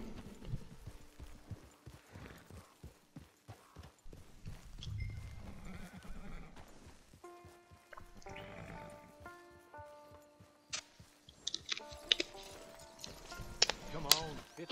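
In Red Dead Redemption 2, hooves clip-clop steadily while a horse whinnies, with game sound effects and music-like tones layered in, and a voice speaking briefly.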